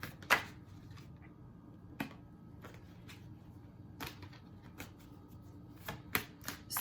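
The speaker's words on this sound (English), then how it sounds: "I'm gonna pull some Archangel Michael cards" Archangel Michael oracle cards are shuffled by hand, giving sparse crisp snapping riffles and soft flicks at irregular intervals, close and quiet.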